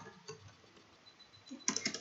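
A computer keyboard clicks faintly at first, then a short close run of sharper keystrokes lands at the end as a command is typed into Stata.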